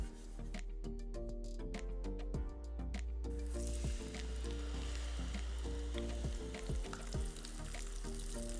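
Asafoetida and whole spices fry in oil for a spicy paneer dish: a few clinks and light crackles, then a loud, dense sizzle swells and holds steadily close up, with occasional stirring.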